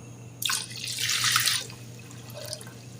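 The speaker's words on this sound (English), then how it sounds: "So now I'm gonna put some fresh water." Fresh water poured into a pot of Jamaican-style curry chicken, a short splashing gush that rises, runs for about a second, and trails off into a few faint drips against a low background hum.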